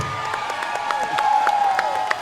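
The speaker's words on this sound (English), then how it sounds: "round of applause for Christian Williams out there" Arena crowd at a fight-night event applauding fighter Christian Williams, with a steady wash of clapping and cheering, a few sharper claps and whistles standing out, a voice speaking faintly underneath.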